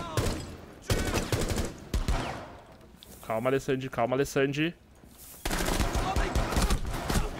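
A burst of rapid gunfire in the video game Rainbow Six Siege crackles in the middle, framed by excited voices talking loudly in Portuguese before and after.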